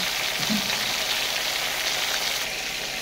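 Pointed gourd (potol) frying in a pan gives a steady, even sizzle with soft crackling throughout, close and moderately loud, with no voices.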